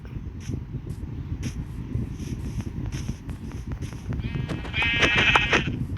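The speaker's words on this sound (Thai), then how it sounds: "เฮ้ยเจอแกะ" Sheep in Minecraft bleat over a steady background of game noise, with several short calls early on and a louder, longer bleat near the end.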